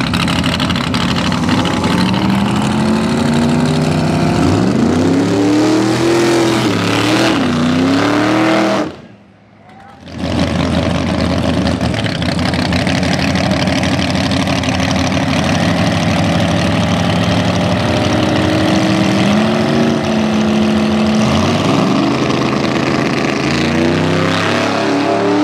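Loud drag racing run with Rick's Camaro and a rival car launching, engines roaring at high revs with rising and falling pitch sweeps, a brief gap of near silence midway, then sustained engine noise continuing to the end.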